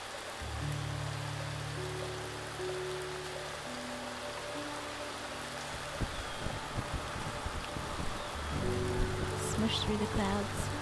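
Steady rain patters across a surface in the video game Feather, a continuous wash of drops heard alongside sustained soft musical tones from the game's score.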